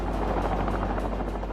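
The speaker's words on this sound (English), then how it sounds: "Helicopters were scrambled" A helicopter drones with a steady rotor thump, loud and continuous, heard alone over snow-covered country in a severe winter freeze.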